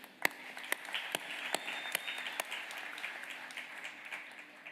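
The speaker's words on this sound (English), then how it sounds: "Please give a big round of applause for everyone" Audience applause at a graduation ceremony, a steady wash of many hands clapping with a few sharp nearby claps standing out, moderately distant and filling the room.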